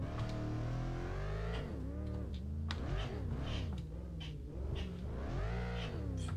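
A car engine in the Assetto Corsa racing game revs hard while drifting, its pitch climbing and dropping in long, wavering sweeps. It plays faint and steady throughout, with no voices over it.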